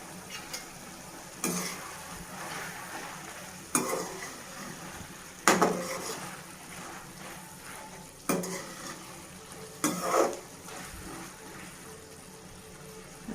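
Coriander chutney ingredients fry in a pan with oil, giving a faint, steady sizzle. Five sharp scraping stirs of a utensil against the pan come at irregular intervals, each a brief clatter over the frying.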